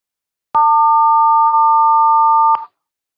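Two combined sine tones at 900 and 1100 hertz sound together as a steady, loud electronic beep lasting about two seconds, starting and stopping abruptly with a brief dip in the middle, alone in silence.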